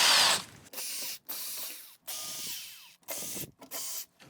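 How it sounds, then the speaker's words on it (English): Power driver removing fasteners from a GE Profile induction range panel, several short whirring bursts separated by brief silences, close and fairly loud. "And then we're going to remove these fasteners."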